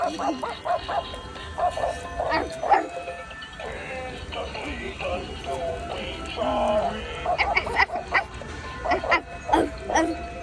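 A small dog whimpers and gives short yips and barks while it is being fed, the sounds coming in clusters near the start and end over steady background noise, with people talking nearby.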